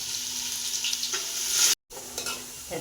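Onion fries in a pan as the base for a rustic chicken kala rassa curry. A close, steady sizzle comes with stirring scrapes and is briefly cut off near the middle.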